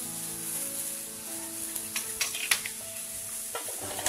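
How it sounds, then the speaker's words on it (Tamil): Achu murukku rose cookies frying in hot oil, a soft continuous sizzle with a low steady hum, punctuated by a few light clinks and taps around the pan. "எண்ணெய் காய காய அப்படியே ஒவ்வொரு முறுக்காக போட்டுட்டு இருக்கணும்"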